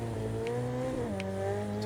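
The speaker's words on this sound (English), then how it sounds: "the engine has to rev kind of high to be able to try and get grip" A McLaren engine revs high on dirt in a racing video game, a steady droning growl with slight pitch shifts, loud and close throughout.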